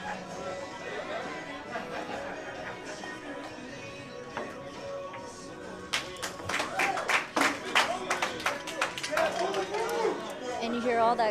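An audience at an APA 8-ball pool tournament breaks into scattered clapping that swells into a run of sharp, close claps, with people talking over the hall throughout.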